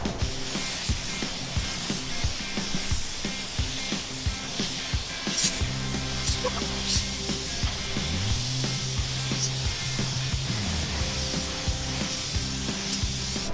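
A spray gun applying silver paint to a van's transmission, giving a steady close hiss that continues for several seconds with small bursts and clicks, and no talking.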